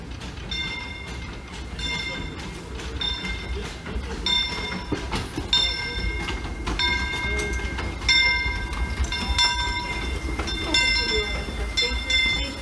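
A Disneyland ride train rolls along steadily, with recurring rhythmic clicks and metallic tones over a continuous low rumble at close range; no one speaks.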